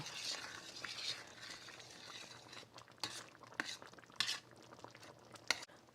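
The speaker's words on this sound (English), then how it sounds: "Get that cornstarch dissolved good. And stir this in." A spoon stirs dissolved cornstarch into a boiling pot, soft scraping and bubbling close by with several sharper clinks against the pot.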